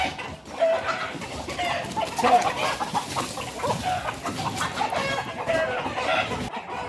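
A flock of chickens and young roosters cluck and chatter continuously in a farmyard, with a few brief crowing calls rising over the busy, moderately close background.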